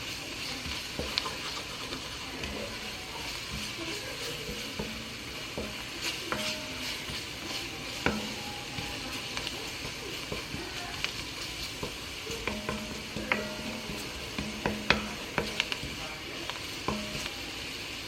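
Flour cooking in a pan with steady sizzling and frying, broken by frequent scraping and clicking stirs against the pan, close up, with no talking.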